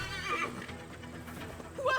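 A horse in the video game Assassin's Creed Valhalla neighs near the start and again at the end, with hooves clip-clopping faintly between the whinnies.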